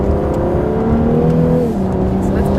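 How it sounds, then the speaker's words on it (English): Engine droning loudly and steadily as a race car revs past on the Mosport racetrack, its pitch sliding lower partway through, with no talk over it. "we got a car coming, so let's hold up"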